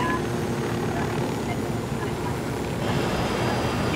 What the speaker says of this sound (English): the whole chopper does like a side roll when you do that